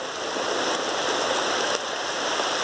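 Floodwater after heavy rain in Dehradun rushes in a steady, broadband roar, close and constant like a fast stream, with no voices.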